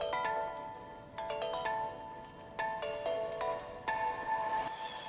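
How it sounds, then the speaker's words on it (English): The Sea Lily's Bell in Zelda: Link's Awakening plays a bright, tinkling run of ringtone-like chimes in several bursts, quiet and unaccompanied by speech. "I meant a freaking Nokia ringtone, apparently."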